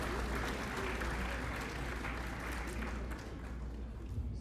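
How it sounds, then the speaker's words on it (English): Audience clapping for the sponsors at a Telangana Development Forum anniversary gathering, a steady, moderately loud wash of applause with a low hum and faint room murmur underneath throughout. "Big clap to all the sponsors of this program,"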